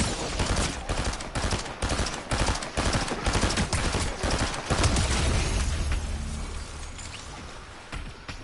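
Rapid gunfire in a video game, a dense run of loud bursts and shots in close succession that gives way to a lower rumble and fades near the end.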